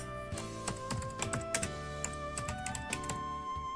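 Someone types an address on a computer keyboard in quick, close, steady keystrokes with brief pauses and no voices.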